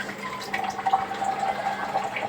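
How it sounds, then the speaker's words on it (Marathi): A glass of water is poured into a curry in the pan, giving a short, continuous splashing and gurgling pour close by, with no talking. "1 ग्लास पाणी घालून घेऊ."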